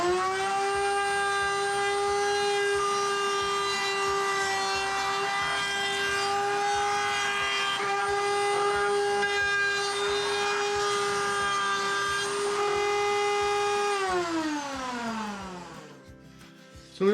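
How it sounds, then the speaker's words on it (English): A handheld router fitted with a 1/4 inch round-over bit rounds the edge of a wooden workbench top, holding a loud, steady, high-pitched whine for about fourteen seconds before the motor winds down and the pitch falls away. "So I've got a 1/4 inch round over bit in my router."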